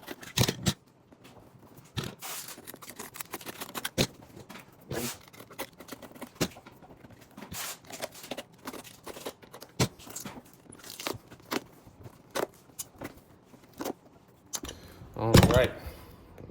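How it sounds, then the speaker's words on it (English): A knife slicing through the double stitch between a leather boot sole and welt on Hyer boots: sharp, intermittent snips and crunchy pops, close and distinct, separated by quiet gaps, with one louder scraping burst near the end. "slide our knife in between the soles and the welt to cut that double stitch"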